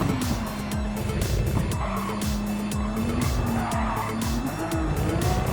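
Genesis X VGT race car braking hard into the Monza first chicane in Gran Turismo 7, a steady engine drone with repeated downshift blips and tire squeal as it scrubs speed, loud and close throughout.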